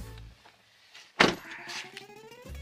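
Someone climbs into a used Volvo XC90 seven-seat SUV: a sharp car-door thunk stands out in the middle, followed by faint interior rustling and a low electric whir, all close and without talk.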